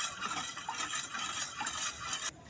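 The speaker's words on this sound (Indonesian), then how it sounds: "Kita aduk." Sugar, paniri powder and coconut milk mixture for kue talam being stirred in a pot, a steady close scraping and swishing of a spoon or whisk against the pan, continuous with faint clinks, no voices.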